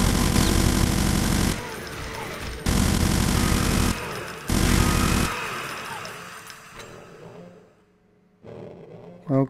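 A pecker gun firing in Brutal Doom, dense rapid bursts of gunfire in several long loud blocks with short gaps, then tailing off into quieter game sounds and one last sharp blast.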